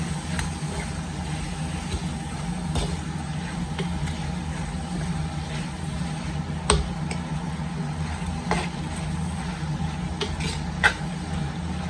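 Goat intestine pepper fry stirred in a clay pot, a steady low sizzle with scattered scraping clinks of a spoon against the pot, close by and continuous.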